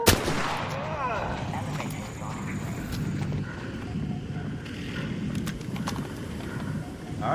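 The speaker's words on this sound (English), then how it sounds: "Are we being shot by a player?" Another player's gunfire in the Arc Raiders shooter game: scattered sharp shots crack at intervals over a steady, rumbling background of game ambience, none very close.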